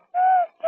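A human voice imitates a dove's cooing call: one sustained, hollow coo and then the start of a second, close and fairly loud.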